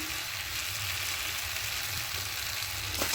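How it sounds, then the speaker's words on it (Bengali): Chicken with spinach paste and a pinch of sugar sautés in a pan, a dense, steady sizzle that runs loud and unbroken from start to finish, close up. "দিয়ে আরও ভালো করে কষিয়ে নেব"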